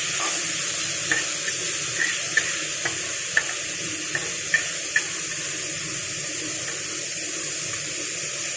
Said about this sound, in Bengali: সবজিটা বেশ নাড়াচাড়া করে আমি সাইড করে দিয়েছি